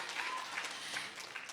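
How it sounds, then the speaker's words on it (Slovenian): An audience at a children's choir concert in Maribor applauds the eighth-grade singers, a brief, faint, steady patter of clapping from a crowd heard at some distance. "dajte en aplavz za osmičare"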